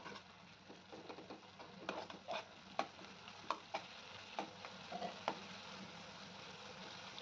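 Leftover masala sautéing in oil in a pan for a ridge gourd bhaji, a soft low sizzle broken by sharp ticks and scrapes of a spoon stirring now and then, with no voices.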